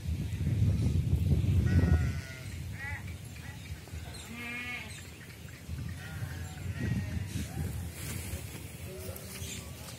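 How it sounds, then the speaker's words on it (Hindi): Goats on a farm in Punjab bleat several times in wavering cries at moderate distance, some overlapping, over a low rumbling background. "बहुत अच्छी अच्छी वो बकरियां देखी हैं"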